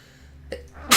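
A single sharp sneeze bursts out at the very end, loud and close, after a brief faint intake of breath, with no talking over it.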